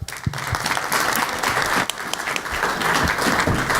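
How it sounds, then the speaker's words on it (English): A convention audience at an artist panel bursts into lively applause, a dense crackle of many hands clapping with a few louder close claps, steady for several seconds. "Clap, guys."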